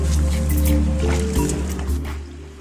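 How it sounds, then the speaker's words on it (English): Boots squelch and suck through thick swamp mud, a continuous wet squishing with low rumbling handling noise, close and fairly loud. "See how you just sink down in this mud and it just pulls you under."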